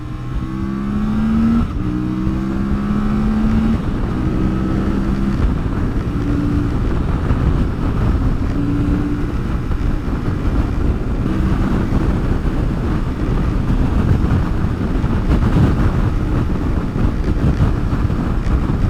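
CF Moto 450MT motorcycle cruising on a motorway, with a steady loud engine drone and rising gear-change tones under constant heavy wind rush, no voices.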